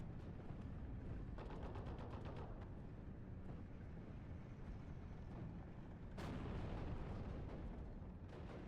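Distant artillery fire in the WWII strategy game Steel Division, repeated muffled booms and blasts rolling under a constant low battlefield rumble, fairly faint throughout.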